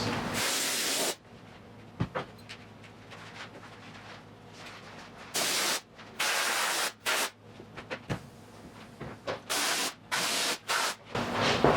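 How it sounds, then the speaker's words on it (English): Loud hissing bursts of an aerosol spray glue can, several long and short sprays separated by quieter gaps, close by with no talking. "So I'm gonna spray glue in advance."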